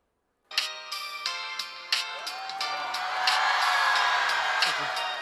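A mid-2000s slide mobile phone plays a song ringtone as a bright, rhythmic electronic melody of repeated notes. A live crowd soon joins in, whooping and cheering loudly under it.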